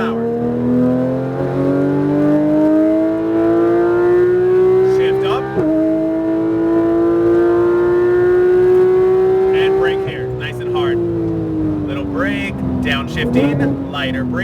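A Porsche 991 GT3 RS accelerates at full power on a track, its engine note climbing steadily in pitch, dropping briefly at two upshifts, loud and close, with someone talking over it.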